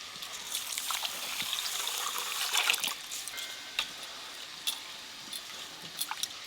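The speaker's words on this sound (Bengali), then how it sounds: "চালটা জল দিয়ে ধুয়ে ভিজিয়ে রাখবো" Rice for pulao being washed in water, with a steady soft trickle and splashing and small scattered drips and clinks throughout, close and fairly quiet.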